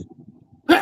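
A single sharp, loud human sneeze bursts out abruptly after a short stretch of faint low murmuring, close to the microphone.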